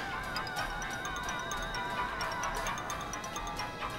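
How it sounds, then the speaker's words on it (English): A telephone rings in a video game, a faint warbling electronic tone repeating in a steady rhythm over a constant background hum. "I know there's that phone ringing"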